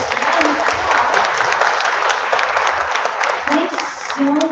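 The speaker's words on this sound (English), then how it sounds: "Let's give our panelists a round of applause." An audience applauds panelists at an arts festival panel discussion, a dense steady round of clapping that carries on throughout, with a few voices audible near the end.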